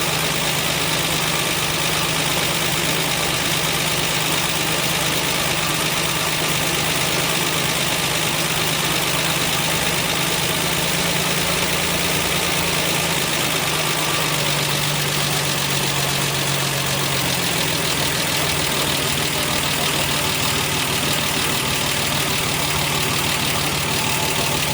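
A 1968 MGC engine with SU HS6 carburetors idles steadily and loudly up close, a continuous dense rumble that dips slightly in pitch midway as the idle is adjusted down, with no talking.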